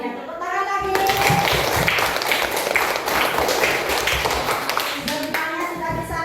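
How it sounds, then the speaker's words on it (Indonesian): Children clap their hands together in a lively, sustained burst lasting several seconds, close by and fairly loud, with young voices calling out over and around the clapping. "Ya, tepuk tangan lagi."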